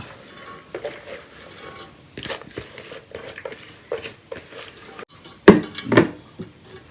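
Washed cucumber pieces tumble into a pressure cooker, a series of soft knocks and clatters that peak in two louder thumps near the end, with no talking.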